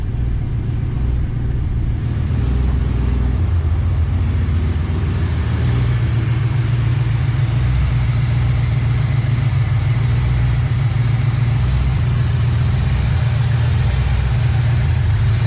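A car engine idles after sitting for 17 years, a loud, close, continuous low rumble with a steady throb and slight rise in tone partway through, with no talking.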